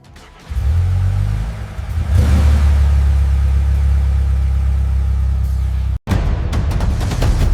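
Upgraded engine of an old BMW car, idling with a deep rumble, then rising into a loud sustained rev that holds steady, cut briefly before resuming near the end.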